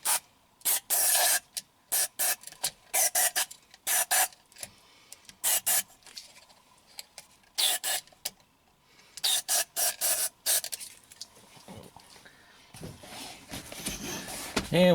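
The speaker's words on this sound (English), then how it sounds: "I'm just going to spray this in here." Short bursts of aerosol contact cleaner hiss in quick irregular spurts into a Honda driver's seat belt buckle switch, close by, with brief silences between them and a faint rattle near the end.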